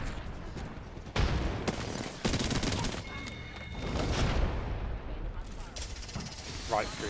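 Apex Legends gunfights, including an RE45 pistol: rapid bursts of gunfire and a heavy sustained barrage crackling across the scene, loud and dense, with players talking underneath.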